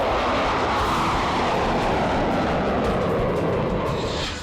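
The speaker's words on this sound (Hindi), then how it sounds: "लद्दाख के शांत गगन को भेदते मिराज 2000 और Su-30" Mirage 2000 and Su-30 fighter jets roaring over the mountains of Ladakh, a loud, continuous broadband engine roar that stays steady and close, fading only slightly at the very end.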